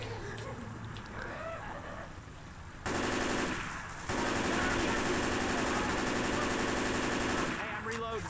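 Shotgun fire in the video game Left 4 Dead 2, Cold Stream campaign: short bursts of gunfire give way to a long, dense stretch of rapid shots amid game noise, with faint voices before and after.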